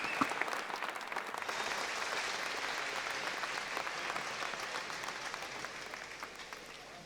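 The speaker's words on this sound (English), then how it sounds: "Let's have a big cheer for our British champion, Duncan Scott." A swimming championship crowd cheers and applauds British champion Duncan Scott in a Glasgow arena, a dense, sustained roar of clapping that starts suddenly and fades slightly toward the end.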